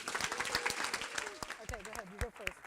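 Audience applause at an evening faith-sharing gathering, a dense wash of clapping that runs throughout, with a voice speaking over it near the end.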